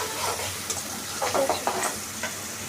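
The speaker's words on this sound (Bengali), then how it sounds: "ভেজে নিচ্ছি।" Steady frying sizzle of onions and chilies close by, with a few scraping stirs and soft clatters of a spoon in the pan.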